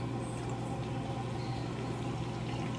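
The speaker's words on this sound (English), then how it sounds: "I just juiced 2 lemons. So I'm just gonna pour that in." Lemon juice pours steadily into a pan on low heat, a soft continuous splashing trickle over a low hum, with no voices.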